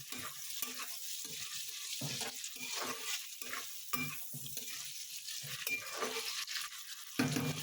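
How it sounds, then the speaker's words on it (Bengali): Food sizzling softly in a hot pan while chicken kofta pulao is cooked, a continuous gentle hiss broken by small scraping stirs; close but fairly quiet, with no voices. "হালকা করে ভাজবো আমি।"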